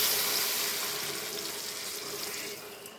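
Water poured from a small vessel into a cooking pot while macaroni is prepared, a steady broadband splashing stream that holds for the whole stretch and eases slightly toward the end, with no talk.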